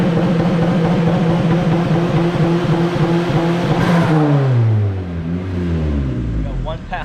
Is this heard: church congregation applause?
no